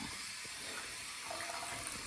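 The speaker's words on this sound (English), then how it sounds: "What we'll do is put the tap on really low." A plumbing tap is opened to a very low flow after pipe repairs, producing a steady, faint hiss of running water that holds constant throughout with no voices.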